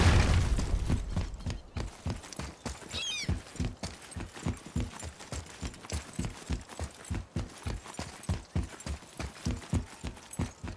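Steady horse hooves clip-clop in a brisk, even rhythm throughout, close and clear, with a faint rustle early on, in the video game God of War.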